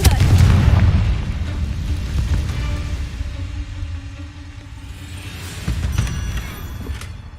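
A Confringo blasting spell explodes in the video game Hogwarts Legacy, a loud, deep boom up front that rumbles and fades, followed a few seconds later by a second softer burst.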